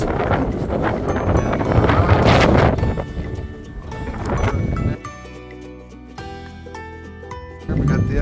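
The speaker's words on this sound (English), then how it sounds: "it's a little windy out here right now" Gusts of wind buffet the microphone outside a barndominium with loud rumbling bursts that ease off, then return near the end.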